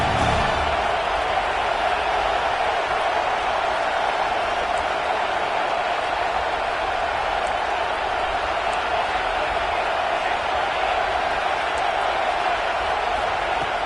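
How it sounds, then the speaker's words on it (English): Home crowd roaring in a college football video game (CFB 26), Washington hosting Ohio State; a steady, dense wall of stadium cheering holds at an even level throughout, with no lulls. "this home crowd is fired up and ready to make a difference today"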